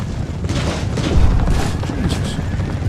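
Artillery in Empire: Total War firing shrapnel at tribal gunners in a 1720 battle: a dense rumble of distant booms and scattered bursts rolls on under someone talking.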